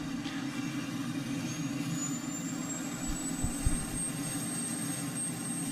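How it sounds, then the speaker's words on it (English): An F-16 jet engine spinning up in a flight simulator game, a steady low rumble with a rising high whine climbing over several seconds, continuous and fairly quiet with a few low thumps midway. "we're going to go ahead and start the aircraft up"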